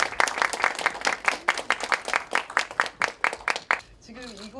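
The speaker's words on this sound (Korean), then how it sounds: "황정선 강사님을 큰 박수로 맞이해 주시기 바랍니다." A lecture-hall audience at a local council integrity training session claps to welcome a guest lecturer, loud rhythmic applause for about four seconds before it fades and a voice begins speaking.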